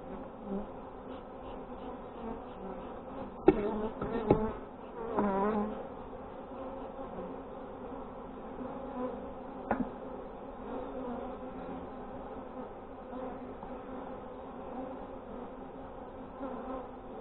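Honeybees hum in a steady, dense buzz around a Dadant hive frame during a hive inspection, with a few brief handling knocks and rustles partway through.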